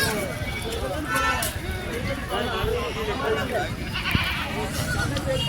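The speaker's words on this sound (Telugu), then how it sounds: "చిలుపురుగుట్ట సంత అనమాట, మేకలు మరియు గొర్రెలు" Goats and sheep bleat repeatedly at the Chilpur Gutta Sunday livestock market, overlapping calls amid a busy crowd babble, with people talking throughout.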